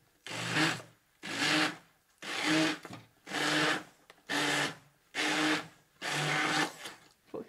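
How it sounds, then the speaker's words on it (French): A blender mixes avocado féroce in seven short bursts of roughly equal length, each a loud whirring pulse separated by brief pauses. "nous allions mixer un peu pour avoir l'onctuosité"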